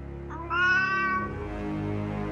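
A cat gives a single drawn-out meow, clear and fairly close, rising then fading over a low background hum.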